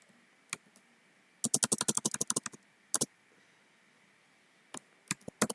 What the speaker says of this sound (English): what I have to do, I have to type